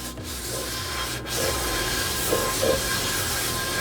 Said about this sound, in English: I'm just going to go ahead and use my palm scrubber